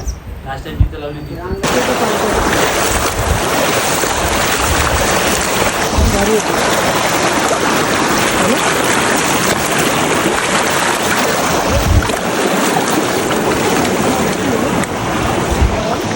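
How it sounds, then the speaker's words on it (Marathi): Dodhani waterfall pours with its spray swung to one side by the wind, a loud, steady rushing roar that fills the scene nearly unbroken from just after the start. "हे बघा धबधबा बघा किती सुंदर आहे आणि हवेनं तो फिरतोय एका साईडला"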